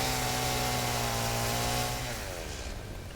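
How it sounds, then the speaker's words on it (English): A chainsaw in the Satisfactory video game drones loud and close as it cuts through trees, holding a steady whine before the pitch wavers and the sound eases off toward the end. "now that we have the chainsaw, we can do this"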